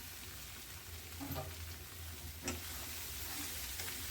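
Ridge gourd palya cooking in a pan, a soft steady sizzle with a few light scraping clicks as it is stirred, quiet and close with no talking.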